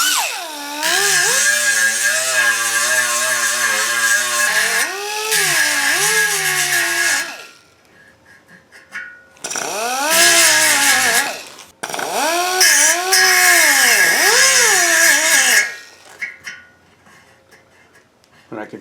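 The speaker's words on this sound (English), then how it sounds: "So grind this down" A power grinder smooths down a Muggy Weld repair on Mustang pot metal, whining up and down in pitch through several close, loud bursts with pauses between, and someone talks briefly in a gap.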